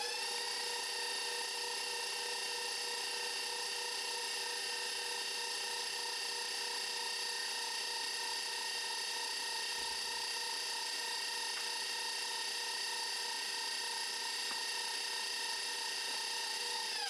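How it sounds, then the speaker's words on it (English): An electric mixer beats cheesecake batter with a pinch of salt, giving a steady, continuous high-pitched motor whine that holds unchanged throughout, close and alone with no talking. "We're just going to mix that until everything is incorporated."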